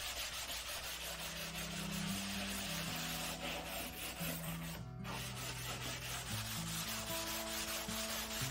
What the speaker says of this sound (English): I'm going in and giving it a quick scuff sand before I paint it.